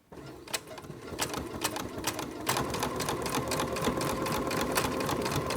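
A sewing machine runs a straight stitch through a junk journal cover of cardboard, layered fabric, sari silk and lace, a steady rapid clatter of needle strokes that speeds up and holds at a fast, even rhythm.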